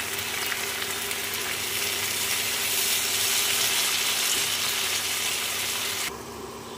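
Slit green chillies sizzling steadily in hot oil for a Bengali-style silver carp curry, a loud continuous frying hiss that drops off sharply near the end.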